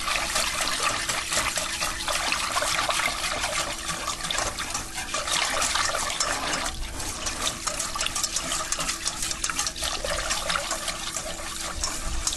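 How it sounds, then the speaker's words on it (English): Milk, about two cups, pours steadily into a pan as a continuous loud liquid rush with a bubbling, trickling texture that lasts unbroken throughout. "We're going to add approximately 2 cups of milk."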